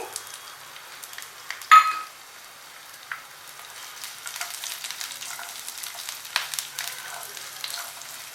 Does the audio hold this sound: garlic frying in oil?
yes